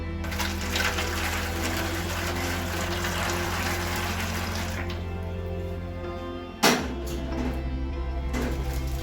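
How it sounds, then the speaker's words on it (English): Steady running water pours and splashes continuously into a baking tray, then shifts sharply near the end and keeps flowing, close and fairly loud. "And I'm adding the water to the tray."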